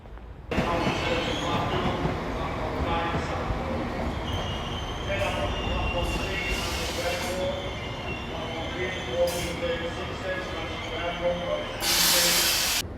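A 30-year-old Class 769 diesel commuter train rumbles steadily close by in Greater Manchester with hissing bursts and metallic squeals, a continuous heavy mechanical roar throughout.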